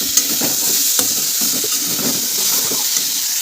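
Vegetables stir-frying in a pan, a continuous loud sizzle with repeated scraping and tossing stirs throughout, close and without speech.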